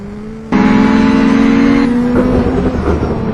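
Race cars roar loudly on a racetrack during a heat race, a sustained engine drone that jumps in sharply and holds steady with high revving tones, one car swelling close then easing off.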